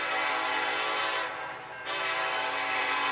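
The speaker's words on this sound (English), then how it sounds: "I've gotten pictures of this train already as he slowly leaves Suffolk" Norfolk Southern NS 2700 train with EMD locomotives slowly departing Suffolk sounds a loud, sustained horn blast close by, its tone dipping briefly midway before swelling back to full strength.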